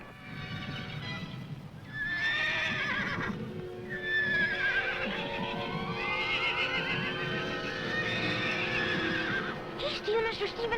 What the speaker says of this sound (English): What's that white horse up to?